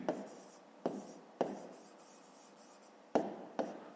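Pen writing by hand in a notebook during a maths exercise, a steady close scratching with several sharper tapping strokes spread across, no voices.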